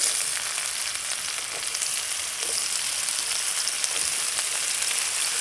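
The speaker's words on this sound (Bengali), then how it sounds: "পেঁয়াজটাকে একটু ব্রাউন করে ভেজে নেবো প্রথমে।" Chopped onions fry in hot oil with whole cumin, three dried red chillies and bay leaf, giving a steady, loud, dense sizzle that runs unbroken throughout with no voices.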